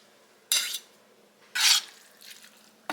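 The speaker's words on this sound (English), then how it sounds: "Just stir the ramen into the sauce and broccoli until you get it all nice and coated with that sauce." Cooked ramen stirred into cheese sauce with broccoli in a pot, three short scraping, sloshing strokes of the spoon at about one-second intervals, with quiet between them.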